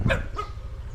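Two quick barks from a dog nearby, over a low rumbling background.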